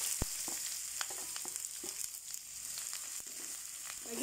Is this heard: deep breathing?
no